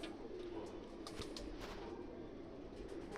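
A pigeon of the old Sialkot Galodhu breed, a line dating from before 1947, gives a brief, faint coo over a steady low background hum.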